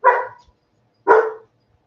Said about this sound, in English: I hear you barking, doggy.